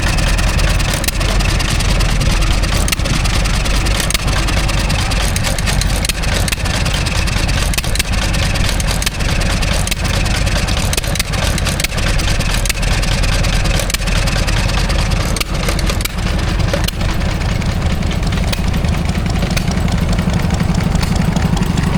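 A John Deere E 1.5 horsepower stationary engine runs steadily at a country show, its continuous loud chugging holding an even idle throughout with no voices over it.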